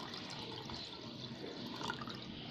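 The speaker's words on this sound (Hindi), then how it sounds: "अब हम इसमें एकदम ठंडा पानी शामिल करेंगे, बिल्कुल ठंडी ठंडी चिल्ड बनाएंगे।" Cold water is poured into lemon juice for a mint lemon drink, a soft, steady splashing trickle of liquid at low volume throughout.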